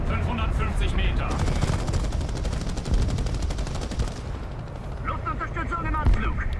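Loud artillery and machine-gun fire rumbles through a War Thunder battle as shells land on a grid square, dense booms and rattling bursts running continuously with radio voices talking over them.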